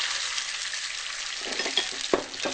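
Wine and clam juice hit a hot pan over medium-high heat, setting off a loud, dense sizzle that hisses steadily, then breaks into bursts of crackling and spatter near the end, with no voices.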